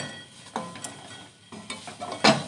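Coconut mixture with milk powder is stirred in a pan for palm-fruit pitha, producing soft scraping strokes and a few sharper clinks of a spoon against metal, close and fairly quiet.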